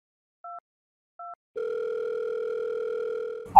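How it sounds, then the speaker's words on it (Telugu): Two short dialing beeps sound on a phone, then a steady, clean telephone ringback tone holds for about two seconds before a sharp click cuts it off. "ఇప్పుడు నేను మా అక్కయ్య వాళ్ళ అసిస్టెంట్కి ఫోన్ చేయబోతున్నాను."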